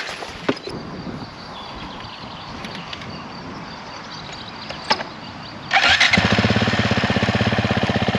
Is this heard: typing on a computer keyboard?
no